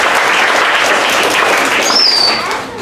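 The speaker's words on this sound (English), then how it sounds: "Let's give him a round of applause." A round of applause from an audience at an astronaut's talk, thick steady clapping near and loud for about three seconds, with a brief high whistle-like tone near the end before it tapers off.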